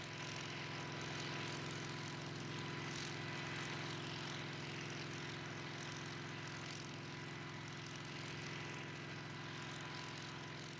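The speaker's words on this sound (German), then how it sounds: "Wo für Flugzeuge keine Arbeitsflugplätze eingerichtet werden können, kommen die Hubschrauber KA-26 zum Einsatz." A KA-26 helicopter flies over forest on a pest-control spraying run, its engine and rotor drone holding steady and fairly distant for about ten seconds with no talk.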